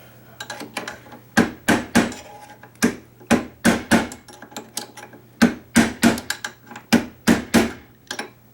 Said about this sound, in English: Might need a hammer.